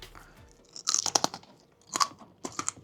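Loud, close crunching as someone bites and chews frozen sour candy straps, a few sharp crunch bursts separated by short pauses.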